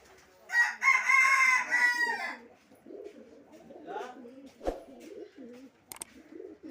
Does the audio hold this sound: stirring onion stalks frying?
no